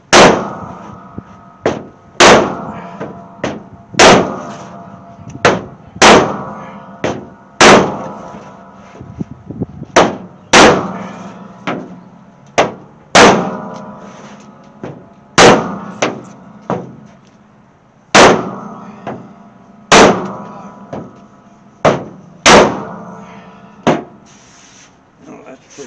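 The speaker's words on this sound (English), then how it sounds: "Well, hammer a little more right in this area." Hammer blows ring out on the metal hood panel of a 1968 AMC AMX being fitted to its fender, about two dozen sharp, loud clanging strikes in irregular bursts, each with a short metallic decay, and no talking.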